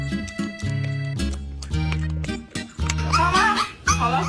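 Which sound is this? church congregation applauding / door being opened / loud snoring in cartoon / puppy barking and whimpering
puppy barking and whimpering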